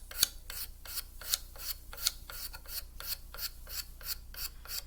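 A hand scraper works rhythmic strokes across facets of a wooden cabriole leg, a steady series of about a dozen close, crisp rasping scrapes, each a short bright burst separated by brief pauses.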